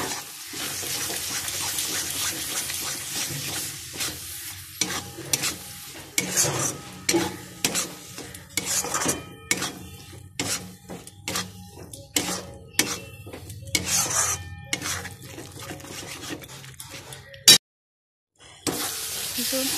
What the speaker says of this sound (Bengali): এবার সব একসঙ্গে মিক্স করবো।